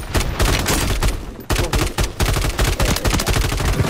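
Rapid Warzone gunfire rattles in dense, loud bursts, pausing briefly before the automatic fire resumes.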